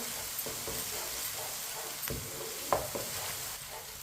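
Steady sizzle of garlic and onion frying in a hot pan, with occasional stirring scrapes and a sharp clink partway through.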